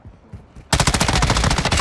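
Rapid automatic gunfire from a Call of Duty match erupts after a brief quiet, a loud, dense burst of closely spaced shots rattling continuously for about a second with no talk over it.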